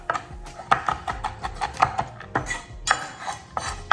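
A kitchen knife chopping on a cutting board while making chocolate covered candies: quick, uneven run of close, sharp taps and clacks, loud and without talk.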